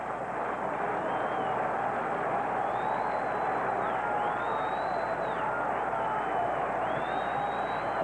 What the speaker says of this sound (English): And now listen to the crowd again with a 2-strike count on the hitter